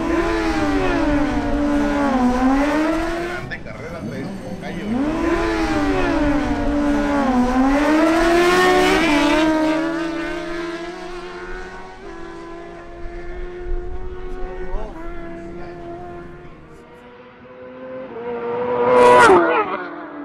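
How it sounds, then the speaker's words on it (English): Two sportbikes, a Suzuki GSX-R1000 and a Honda CBR1000RR, drag racing: loud, close engine howls climb repeatedly through the gears, then a steadier drone drifts off and fades before a sharp rising whine near the end. "Now we have a duel between Cesar Camacho's Suzuki GSX-R1000 and Adrian Murcia's Honda CBR1000RR."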